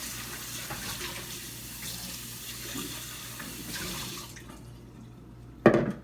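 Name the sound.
rinsing a bowl under running tap water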